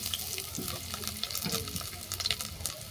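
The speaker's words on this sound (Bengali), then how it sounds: "আবারও কড়ার মধ্যে দিলাম সর্ষের তেল এই তেলের মধ্যে সমস্ত সবজিগুলো আমি হালকা করে ভেজে নেব" Mixed vegetables and potato frying in hot mustard oil in a kadai, a steady sizzle with stirring scrapes and small crackles close up, no talking.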